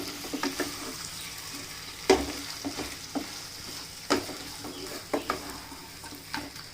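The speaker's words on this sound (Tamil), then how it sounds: "இதை வந்து இந்த வெங்காயத்தில் ஆட் பண்ண போகிறேன். ஆட் பண்ணிவிட்டு நல்லா கொஞ்சம் மிக்ஸ் பண்ணி விட்டுக்கோங்க." Chicken pieces are stir-fried with onions in a pan over high heat for a Chettinad chicken dish, giving a steady close sizzle broken by scraping spoon strokes and occasional clinks.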